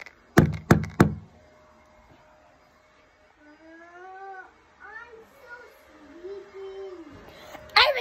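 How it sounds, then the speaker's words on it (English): Three quick, sharp knocks on a door ring out close and loud, followed by a voice talking quietly over a low room hum. "I'm just going to knock on the door"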